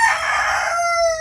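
One rooster crowing close by at a rural Philippine home, a bright, loud call that ends on a sustained held note.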